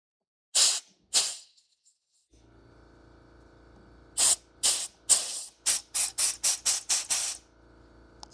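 Short bursts of air blown into a carburetor passage on a bus hiss twice, then come as a quick series of about ten rhythmic puffs over a low steady hum.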